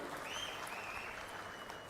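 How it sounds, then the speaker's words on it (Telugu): Audience applause at a public meeting where Andhra Pradesh Chief Minister Chandrababu Naidu is speaking, a steady dense wash of clapping from a crowd, moderately faint and without talk over it. "గట్టిగా చప్పట్లు కొట్టి అభినందించండి."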